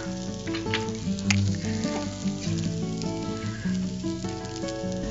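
Potatoes sizzle steadily as they roast in a pan with spice powders, a continuous crackling fry with small pops throughout, no voices over it.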